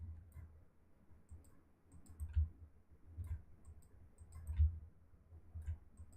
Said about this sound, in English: I'm just kind of randomly clicking.